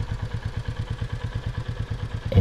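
A Royal Enfield Meteor 350 motorcycle engine idles close by with a steady, even thumping beat of rapid low pulses, loud and alone with no talk.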